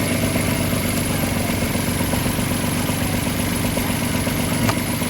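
A car engine idles steadily and loudly up close just after a jump start from a 4-in-1 jump starter, with an even rumble and light clatter and no talk over it.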